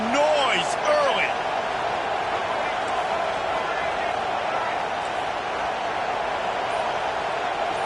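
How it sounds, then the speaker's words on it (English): Broad, steady roar of a stadium crowd during a simulated American football video game match, a dense continuous wash of noise with faint whistle-like tones early on. "This crowd bringing the energy and noise early."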